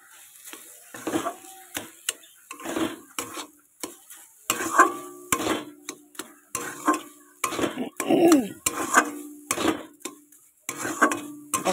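Grated carrot laddu mixture with sugar is stirred in a pan, with rhythmic, close scraping and knocking strokes of a spoon against metal repeating every second or so over a faint sizzle.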